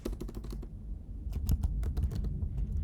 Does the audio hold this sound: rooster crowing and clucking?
no